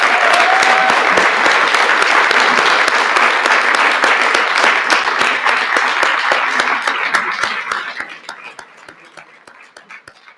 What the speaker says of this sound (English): So join me in giving everyone another round of applause.